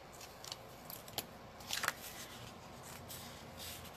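Adhesive backing peeled off paper for a snowman stamping card makes faint, soft crinkling and tearing rustles, with a brief louder burst of peeling near the middle in a quiet room.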